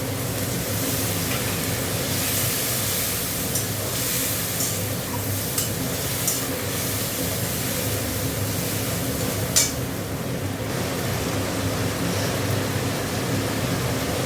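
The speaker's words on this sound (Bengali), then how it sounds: "মশলাটা একটু কষাবো।" Spice paste (masala) being stirred and fried in a pan while cooking a vegetarian bottle gourd leaf mash, a steady close sizzle with scraping stirs throughout and one sharp clink near the middle.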